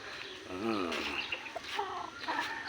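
A backyard chicken clucks in a short rising and falling run, then gives several quieter clucks, close by with faint background noise.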